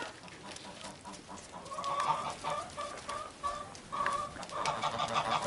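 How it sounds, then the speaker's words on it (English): Geese honk in repeated bursts in a farm courtyard shared with goats, faint and somewhat distant over a noisy outdoor background. "There are a couple of geese together with the goats, as you can hear."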